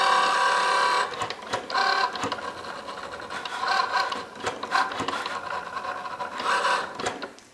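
A Cricut machine cuts a small piece of smart vinyl, its motor whirring and buzzing steadily with intermittent scraping, ratcheting movements as the blade carriage shifts back and forth, up close and alone.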